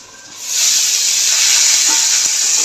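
Tomato tipped into hot oil for a vegetarian banana-flower curry, setting off a sudden loud, close sizzle that surges up after a short quiet moment and holds as a steady hiss.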